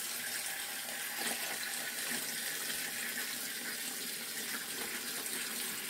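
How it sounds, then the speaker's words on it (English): Tap water running steadily into a basin or tub to soak white clothes for laundry in a yard, making a continuous close gushing splash with no pauses. "I put my white clothes to soak"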